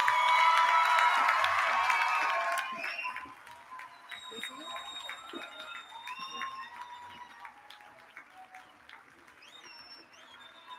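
An audience at a design graduation ceremony breaks into loud, dense applause and cheering for the new graduates, then fades to scattered clapping with bright whistle-like tones and murmuring.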